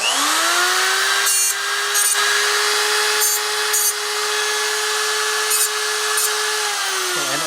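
A grinder shaping a metal front motor mount brace for a WR250E motorcycle, running loud and steady with a sustained high whine, interrupted by several brief scraping bursts as the part is pressed against it, then spinning down at the end.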